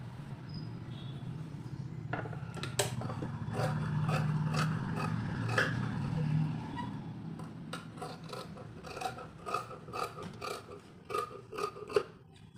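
Scissors cut a fabric sleeve to shape, producing a run of close, crisp snipping clicks in uneven bursts over a soft background hum, with no voices.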